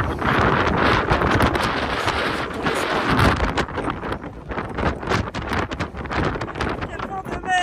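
Strong gusts of wind buffet the microphone in loud, rough roaring bursts that rise and fall throughout.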